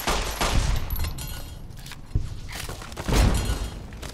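Gunfire and a blast in Fallout: New Vegas, with a few loud sharp bursts near the start, middle and end over a steady rumbling background.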